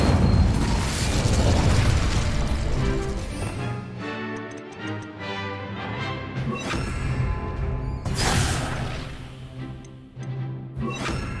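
Incendio fire spells go off in the Hogwarts Legacy video game as a loud roaring burst at the start, followed by several more flaring blasts and ticking mechanical game sounds. There is no speech.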